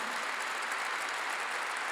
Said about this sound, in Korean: 나무도 박수를 쳤다는데 사람들이 살아있는데 박수가 이렇게 약해?